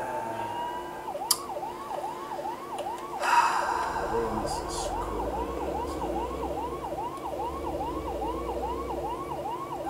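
A police siren in the American Truck Simulator driving game wails in a steady, fast rising-and-falling cycle throughout, sitting over a constant low road and engine rumble, with a brief sharp click early on.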